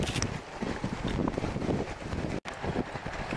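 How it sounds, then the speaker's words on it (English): Wind buffets the microphone at a pier during magnet fishing, a loud, constant broadband rumble with gusty swells and one brief dropout near the end, no voices. "It's really windy out here. I hope too much of this noise ain't coming through."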